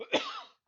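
A single harsh cough bursts out up close, followed by a short rasping breath, then a brief voiced sound after a pause.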